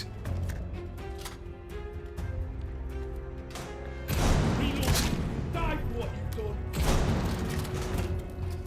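Several sharp video game gunshot bursts in an indoor space in Atomfall ring out with a boomy, echoing tail, loudest in two clusters midway and near the end, over a steady background hum.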